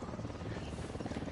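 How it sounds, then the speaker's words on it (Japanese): A transport helicopter's rotor chops steadily in a rapid pulsing drone in Ghost Recon Wildlands, fairly faint and distant, with no clear speech over it. "ああ、このヘリの音またあの輸送だ。"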